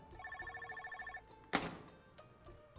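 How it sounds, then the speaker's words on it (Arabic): A desk telephone in an office rings with a repeated electronic trill of short pulses for about a second, then stops; a sharp clatter follows, as if the receiver is lifted, and quiet room noise remains. "عم يرن الهاتف الثالث على مكتبي"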